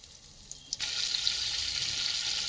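Butter drops into a hot kadai for a paneer masala and starts a steady, bright sizzle that holds evenly after a couple of soft clinks, close and moderately loud with no talking.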